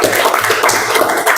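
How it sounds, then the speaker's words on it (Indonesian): A classroom of students claps together for a presenting group, a dense, steady wash of many hands applauding at close range for a brief moment. "Kita kasih tepuk tangan untuk kelompok 1."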